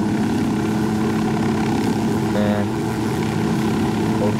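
Video game helicopter rotor thrums steadily throughout at a constant loud level, with a brief mechanical chatter rising over the droning engine midway.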